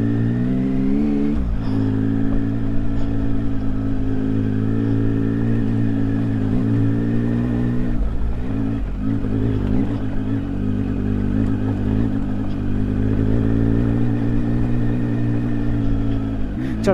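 A motorcycle engine labours loud and steady up a steep mountain road in Ladakh, holding a constant drone with slight shifts in revs throughout.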